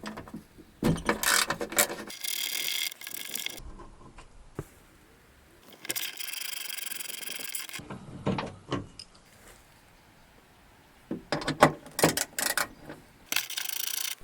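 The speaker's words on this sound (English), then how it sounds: "And remove the three bolts holding the catch." Bolts being removed from the tailgate catch of a 1999–2007 Mk1 Skoda Fabia: bursts of close metallic ratcheting and rattling come in several separate spells with quieter gaps between them, and no talking.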